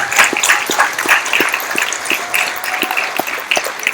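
Audience applause at a downtown San Jose education community meeting, a steady round of crisp clapping from a room full of people, loud and close, with no talking over it.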